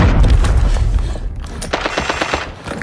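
Gunfire and a bomb blast in the shooter game Arena Breakout: loud, dense bursts of automatic fire crackle close by, with a heavy low boom at the start, rolling on without any speech over it.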